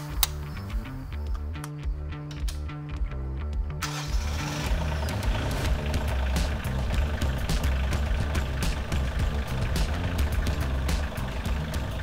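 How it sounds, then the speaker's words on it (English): A Bobcat CT2025 compact tractor's engine cranks briefly and catches, then settles into a steady, close mechanical idle with a regular low throb that continues alone. "Enter the compact tractor and start the machine."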